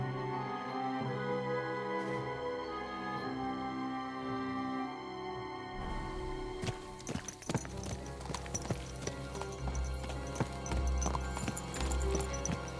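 Steady hoofbeats of a galloping horse in Kingdom Come Deliverance II, starting partway in and drumming on rapidly and fairly loudly over background music until the end, with no talk.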